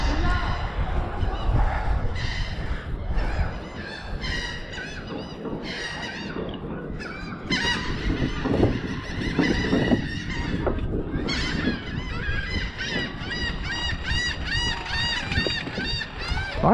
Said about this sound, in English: a lot of the birds are squawky.